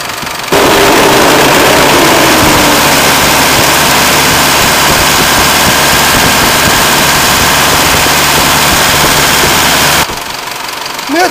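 A car engine runs loud and steady at a held 2,000 rpm for about ten seconds during a battery and charging test, then drops away, close up with no talking.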